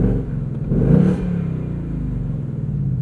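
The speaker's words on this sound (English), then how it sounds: "Tonight we're driving the 2020 Ford Mustang GT Convertible." Close, loud deep rumble of a 2020 Ford Mustang GT Convertible's 5-liter V8 with a 6-speed manual, swelling in a brief rev near the one-second mark before settling back to a steady throbbing drone.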